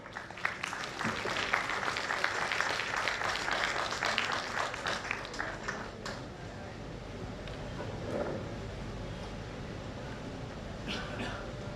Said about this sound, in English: I request all the members present over in the audience to please give them a huge round of applause.